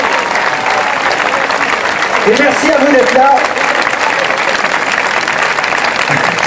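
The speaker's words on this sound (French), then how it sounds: "Merci beaucoup de les applaudir." An outdoor theatre audience at a season launch on a town square in Toulon applauds loudly and continuously while someone speaks briefly over the clapping.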